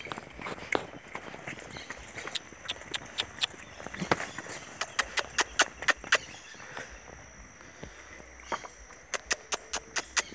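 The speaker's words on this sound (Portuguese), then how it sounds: "Amo cavalo." Horse hooves clip-clop along a rural track in the countryside, a run of sharp, fairly close strikes in an uneven rhythm that bunches into quick clusters, over faint outdoor background with no talk.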